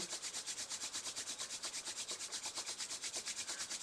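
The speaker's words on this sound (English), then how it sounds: "rub the palms one more time" Palms rubbing together at the close of a yoga session, a steady rapid swishing friction repeating in an even rhythm, soft and close, with no talking.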